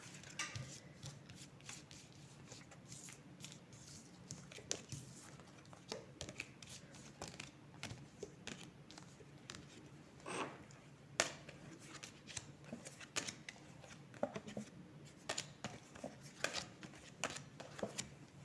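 Oracle cards are handled and shuffled close by in a quiet room, with soft, irregular papery flicks, slides and taps that continue throughout.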